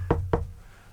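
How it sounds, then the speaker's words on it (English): Two sharp knocks on a dressing room door, close and clear, evenly spaced about a quarter second apart, then quiet. "he'll be thrilled if I knock on his dressing room door"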